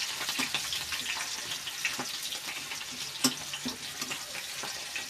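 Onion pieces frying in hot oil while cooking a spinach chicken dish, with a steady close-up sizzle and hiss broken by occasional stirring clicks and pops.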